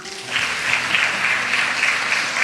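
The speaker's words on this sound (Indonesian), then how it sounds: "Tepuk tangan dong." A congregation bursts into applause during a church sermon, dense clapping starting abruptly and holding steady and fairly loud, with a faint voice briefly at the outset.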